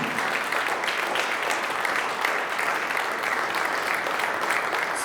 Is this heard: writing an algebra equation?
no